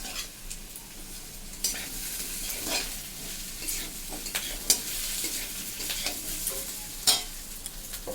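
Lachha vermicelli fries in hot ghee over low heat, a steady crackling sizzle broken by repeated scraping stirs of a utensil in the pan, close and without talk.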